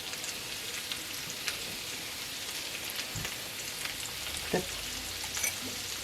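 Turkey turnover filling sizzles gently in a cast iron skillet, a faint steady crackling hiss like light rain with a few soft utensil bumps, close and without talking.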